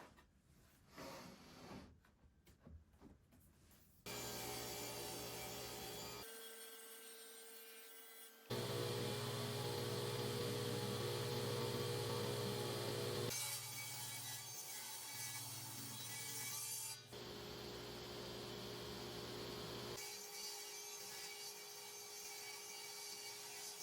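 A saw rips a rough sawn purpleheart board into strips in a workshop, a loud steady cutting drone running in several long passes with brief gaps between them, no talk over it.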